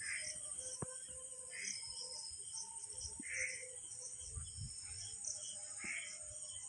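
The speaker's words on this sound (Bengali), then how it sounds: "ঝিঁঝি পোকার ডাকও শোনা যাচ্ছে" Crickets chirp at night near a pond, a faint steady high-pitched trill running throughout, with soft rhythmic calls and occasional low rustles in a quiet outdoor setting.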